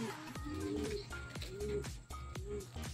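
Homing pigeons coo in repeated soft, throaty calls at close range, several overlapping birds with a low rhythmic pulse beneath, while faint voices murmur in the background.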